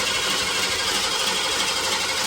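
A 1970 Ford F-100 with a Crown Vic engine swap and a newly installed 600 CFM FST carburetor cranking as it tries to start, a loud, steady, close mechanical whirring without firing.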